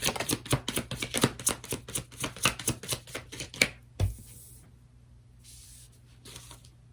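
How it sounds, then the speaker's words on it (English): Tarot cards are shuffled by hand in a quick run of crisp riffling slaps, close and fairly quiet, ending with a single thump and then near silence. "Just want to give this one more shuffle."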